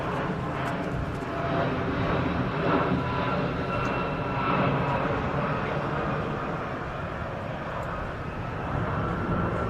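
A Royal Saudi Air Force A330 MRTT tanker arriving at the Royal International Air Tattoo produces a steady, moderately loud jet engine roar and hiss, continuous and fairly distant, with little else heard.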